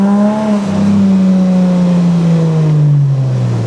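Subaru Outback fitted with blast pipes and a Dynamax muffler, engine revving steadily with a smooth, droning exhaust tone that slowly drops in pitch, loud and close with no talking.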